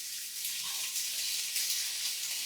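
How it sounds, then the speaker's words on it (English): Plain water poured into a cooking pan with vegetables, a soft continuous hiss and trickle lasting a couple of seconds, fairly quiet and close. "I'm going to add a little bit of just water."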